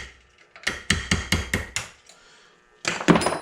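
A tool taps a Graco Silver Flex Plus spray gun part held in a vise, giving a quick run of about six sharp metallic knocks close by, then a pause and a couple more bright hits.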